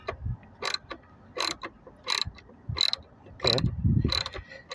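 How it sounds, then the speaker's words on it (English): Car master cylinder bolts being loosened with a wrench, giving repeated sharp ratcheting clicks in bursts, close and fairly loud, with a brief spoken word near the start. "when I loose all those bolts"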